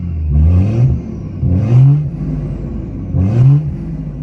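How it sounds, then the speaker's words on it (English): A BMW B58 engine with a full custom exhaust revs hard three times in a row, each burst rising in pitch through a deep, rumbling exhaust before dropping back to a throaty idle. "what do you guys think to the sound of this B58? It's got a full custom exhaust."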